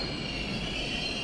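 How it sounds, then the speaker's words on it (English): An older Orange Line subway train rides along with a steady loud rumble and high metallic wheel squeal, running continuously close up with no voices. "we are on one of the older trains"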